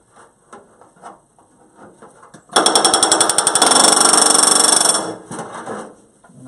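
Pneumatic rivet gun hammering rivets into an aircraft's left wing flap against a bucking bar, a loud rapid rattling burst of about two and a half seconds, after a few short taps and before a fading tail.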